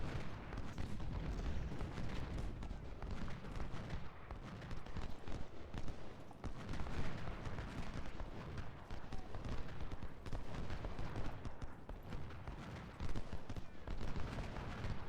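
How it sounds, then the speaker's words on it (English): Rifle volleys and musket fire from a Civil War video game battle at Gaines' Mill, a dense, continuous crackle of shots and booms sustained throughout, loud and close with no pause. "Farnsworth is just pumping rounds into them"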